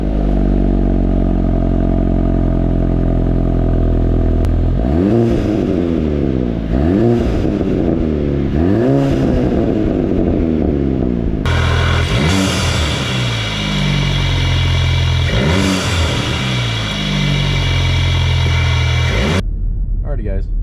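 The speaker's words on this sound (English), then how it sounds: "I hope you like the sound clips of the exhaust and the intake" A Volkswagen GTI driving with its exhaust and turbocharged intake audible, a loud close engine drone rising and falling through repeated revs and gear changes, the pitch sweeping up then dropping, with a brighter intake hiss in the later part.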